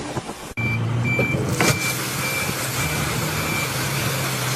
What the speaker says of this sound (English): It takes incredible skill to make a 20-ton dump truck a precision instrument, laying a perfect gravel bed without any extra equipment